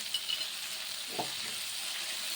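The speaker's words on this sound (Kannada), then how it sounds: "ಚೆನ್ನಾಗಿ ರೋಸ್ಟ್ ಆಗೋ ತನಕ ಸ್ವಲ್ಪ ಫ್ರೈ ಮಾಡ್ಕೋಬೇಕು" Whole spices and green chillies frying and roasting in hot oil in a pan, a soft continuous sizzle with faint crackles and one small clink of a utensil midway.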